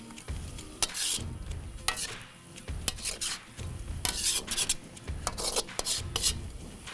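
Chinese noodles frying in a pan over low heat, with a soft constant sizzle broken by repeated scraping and stirring strokes of a utensil against the pan, close and fairly loud.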